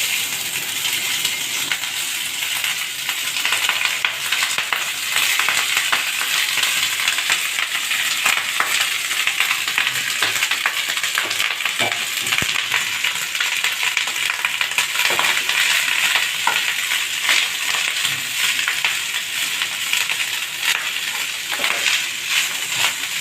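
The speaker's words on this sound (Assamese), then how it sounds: "পেনখনত অকণমান তেল দিলোঁ, তাতে অকণমান গোটা জিৰা দিছোঁ। এতিয়া মই এয়া ভাতখিনি দি দিছোঁ।" Cooked rice fries in a pan with oil and whole cumin seeds, giving a steady, close sizzle and crackle with occasional stirring scrapes. It runs continuously, with no talk.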